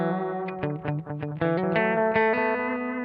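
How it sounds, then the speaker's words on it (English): Electric guitar through a Line 6 HX Effects bucket-brigade-style delay with high feedback, played notes smearing into a dense, distorted, echoing wash that builds and sustains, loud and close. "sometimes I'll run the feedback a little higher. just to get that like wash going."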